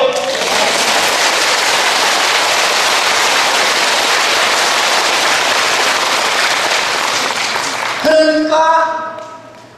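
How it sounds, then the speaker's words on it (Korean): Loud, dense applause from a large audience at a Buddhist dharma talk during a Baekjung ceremony at a Korean temple, sustained steadily for about eight seconds before breaking off into a voice speaking. "박수 쳐요."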